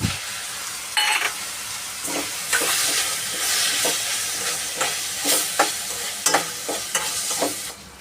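Dal khichdi with chopped tomato is stirred and mixed in a hot pan, a loud steady sizzle punctuated by repeated rhythmic scrapes and clacks of the spoon.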